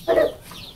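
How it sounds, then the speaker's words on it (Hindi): A hen pecking at grain in a backyard flock gives a single short, close cluck, followed by quiet ambient noise. "और एक मुर्गी दोस्तों हमारी"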